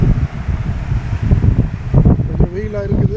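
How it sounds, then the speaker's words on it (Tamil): Strong sea breeze on Thiruvottiyur beach in Chennai buffets the microphone in a loud, gusty rush with low rumbling, and a faint tone rises near the end. "நல்ல அருமையான ஒரு காற்று."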